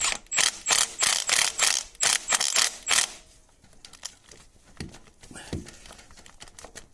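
A torque wrench ratchets in rapid, loud bursts of clicks for about three seconds during drive shaft and inner joint work on an Abarth 500, then fades to quieter tool handling and scattered knocks.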